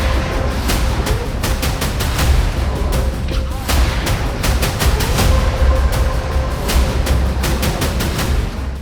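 Continuous loud barrage of explosions and artillery-like blasts from BrahMos missile strikes, dense repeated booms and cracks filling the whole stretch with heavy low rumble underneath.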